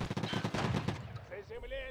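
Gunfire in the game Escape from Tarkov Arena: a rapid burst of loud shots over the first second, then a short tail of quieter game sounds.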